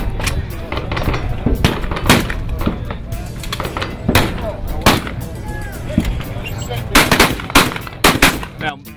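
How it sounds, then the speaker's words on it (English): Browning guns fired with Winchester ammunition at a Shot Show 2014 demonstration, a rapid run of loud close shots in irregular bursts over steady background noise. "he's just putting a few rounds through there."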